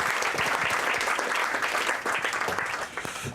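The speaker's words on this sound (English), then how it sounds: "Please put a round of applause in for David McCandless." An audience applauds a speaker, David McCandless, at a talk on data skills for journalists: dense, steady clapping from a room full of people, fairly loud and close, tapering slightly at the end.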